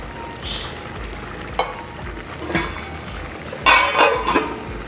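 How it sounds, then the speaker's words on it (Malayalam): Raw coconut oil poured over fish in a pan, giving a soft sizzle and frying crackle with a few brief louder bursts near the end, close by and without talk. "ഈ മീനിൻ്റെ മേലെ കുറച്ച് പച്ച വെളിച്ചെണ്ണ ഒഴിച്ച് കൊടുക്കുന്നുണ്ട്."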